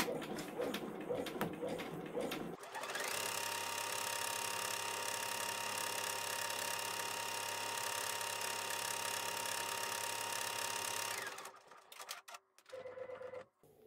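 A SweetPea-designed embroidery machine runs a steady, rapid mechanical stitching whir for about eight seconds, stitching glow-in-the-dark thread for a spider web and bookcase block, then stops and a few soft clicks and handling sounds follow.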